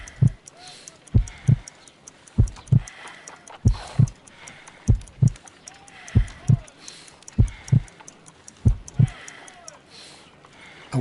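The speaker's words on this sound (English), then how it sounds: "I need to concentrate and count the heartbeats." Heartbeat in Sherlock Holmes: Crimes & Punishments, a slow, steady lub-dub pulse thumping in paired beats roughly every second and a half, loud and close against a quiet background.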